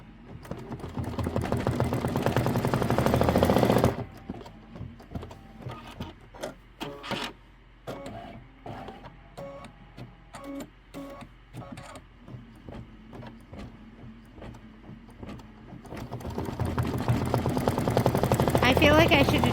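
A sewing machine stitches a Kimberbell June mini quilt in loud continuous runs at the start and end, with a quieter middle stretch of stops, short bursts and clicks while thread is cleared.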